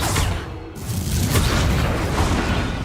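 A Confringo blasting curse detonates in a Hogwarts Legacy duel, heavy close booms and crackling fire-burst noise filling the moment, with a brief dip before a second loud blast that rolls on.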